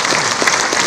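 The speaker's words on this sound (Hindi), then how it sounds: "जोरदार ताली से स्वागत करेंगे" An audience gives a brief burst of applause to welcome a speaker at a stage event, dense steady clapping filling the short moment, loud and close.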